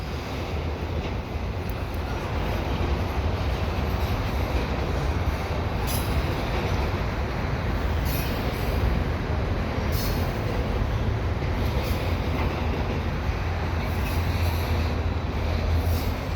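A long container freight train rumbles steadily past up close, wheels clattering and grinding continuously with occasional faint squeals.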